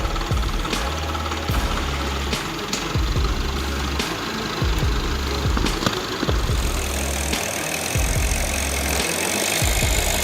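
A heavy IMT 577 tractor engine runs continuously on a muddy, snowy path with a low, knocking diesel chug, steady and fairly loud throughout, with no voices.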